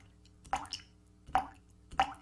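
Three distinct liquid plops fall at an even, unhurried pace, each a short wet drop into water, quiet and isolated, in a commercial for Swanson chicken broth.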